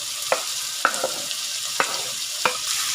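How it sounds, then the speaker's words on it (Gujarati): Chopped tomato added to a pan of masala rice with onion: a steady, close sizzle of frying under several sharp knocks of a spoon stirring against the pan, with no voices. "હવે આપણે ટમેટું નાખીશું।"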